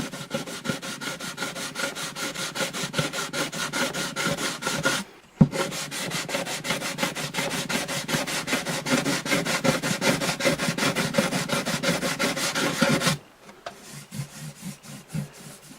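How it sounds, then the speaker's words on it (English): Fine sandpaper dressing a rosewood bridge on an Alvarez Artist AD65 acoustic guitar: dense, rapid rubbing strokes, close and steady, broken by two short pauses, with no talk. "I want to go with a finer sandpaper and dress that up a little bit."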